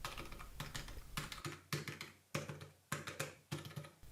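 Media keys on a Logitech G213 keyboard pressed one after another, about six crisp clicky taps spaced roughly half a second apart, close and quiet with no voices.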